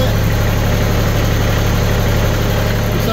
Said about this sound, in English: let's go to the tractor first, kind of loud